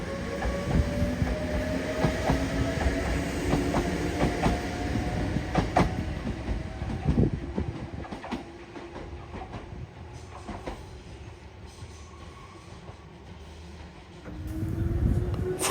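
A Noseden Line train riding the rails toward Myoken-Guchi, heard from inside with rhythmic wheel clacks over joints, a rising motor whine and rumble, quieting midway before swelling again near the end.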